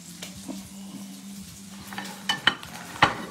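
Bacon fries with a faint, steady sizzle, close by, with a few sharp clinks of utensils near the end.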